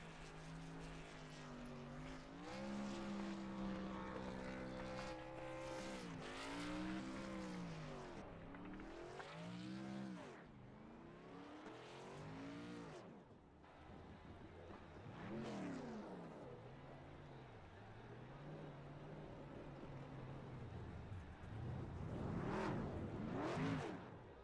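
A Silverado race truck at Watkins Glen does a burnout on the front straightaway, its engine revving in repeated rising and falling surges, fairly distant and quiet, swelling again near the end.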